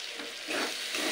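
Ground cumin, coriander and a little Kashmiri chilli powder, mixed with water, sizzle in a pan for muri ghonto. A steady, moderately loud hiss swells slightly in waves as the spices cook.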